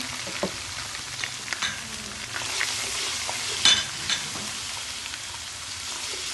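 Ginger garlic paste and salt sizzle and fry in a hot pan, a steady crackling hiss with a few small stirring clicks and pops, alone without talk.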